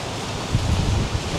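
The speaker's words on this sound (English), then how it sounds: "it's a bit windy here" Wind blows steadily outdoors in a broad, continuous rush with gusting buffets on the microphone. No voices are heard.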